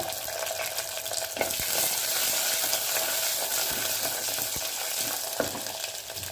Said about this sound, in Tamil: நல்லா வதக்கி போட்டுக்கோங்க